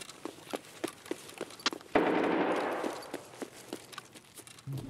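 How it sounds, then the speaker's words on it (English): At night in the video game Escape From Tarkov, a single muffled gunshot booms and decays among soft, scattered footsteps. "Got some gunshots."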